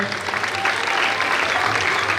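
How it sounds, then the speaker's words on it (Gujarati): Audience applause at a Saraswati honour ceremony of the Kharva community, a steady, dense clapping from a crowd that holds at even loudness throughout, with no pause. "મિત્રો, તાળીઓથી વધાવીએ."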